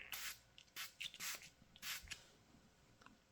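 Several short, hissing bursts of aerosol lubricant sprayed onto a disassembled S&W Bodyguard 2.0 pistol, close by, separated by brief pauses, with faint handling noises between them.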